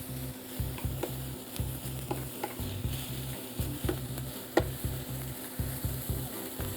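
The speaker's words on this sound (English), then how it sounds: "Obviously, if you keep stirring them, it is a stir fry." Mushrooms and other vegetables stir-frying in a pan, a steady sizzle under repeated scraping and stirring strokes of a utensil against the pan, close and continuous, with no talking.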